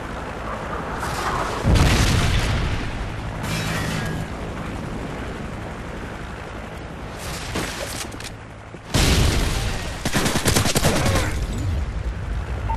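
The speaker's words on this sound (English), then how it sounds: "Friendly Predator missile inbound." Black Ops 2 multiplayer battle with Predator missile explosions and gunfire: loud booming blasts and bursts of rapid shots, a heavy impact near the middle and another toward the end.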